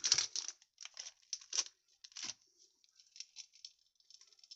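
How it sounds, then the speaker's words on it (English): Garlic butter seasoning sprinkled over both sides of raw burgers, giving a quiet, patchy run of light patters and crinkly shakes in short bursts, with no talk. "So, a good sprinkling of that both sides."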